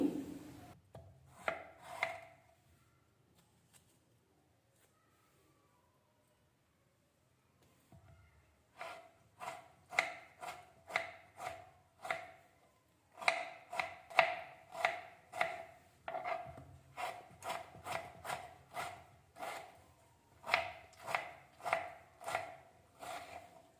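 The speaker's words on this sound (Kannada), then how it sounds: "ಇದನ್ನೀಗ ಚೆನ್ನಾಗಿ ತೊಳೆದು ನಾನು ಸಣ್ಣ ಸಣ್ಣ ತುಂಡುಗಳನ್ನು ಮಾಡ್ಕೊಳ್ತೀನಿ" Ripe red tomatoes being chopped into small pieces on a board, crisp knife strikes in quick rhythmic runs broken by a few pauses, close and fairly clear.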